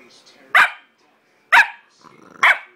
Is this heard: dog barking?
yes